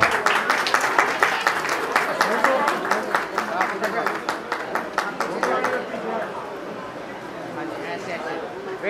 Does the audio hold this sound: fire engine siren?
no